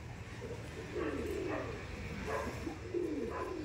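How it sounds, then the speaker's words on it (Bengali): An Andhra red-pied pigeon coos softly in low, rolling phrases, several calls in a few seconds against a faint background hum. "আন্ধ্রা লাল ফুল পায়রা"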